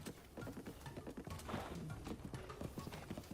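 Rhythmic clip-clop of a horse galloping across open ground in The Legend of Zelda: Breath of the Wild, with a brief whinny, heard steadily under game ambience.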